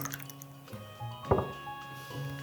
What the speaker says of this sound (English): Not what you want to hear when you're pouring out your salsa.